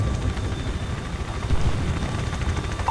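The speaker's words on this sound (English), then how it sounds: "Choppers are inbound" Helicopters arriving amid battle in the video game Call of Duty: Ghosts, a steady loud rotor drone with low thumping, continuous and close throughout.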